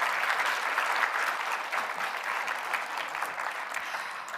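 A full room applauds awardees at a Women for Women International anniversary event, with steady, dense clapping at even loudness throughout and no voices rising above it.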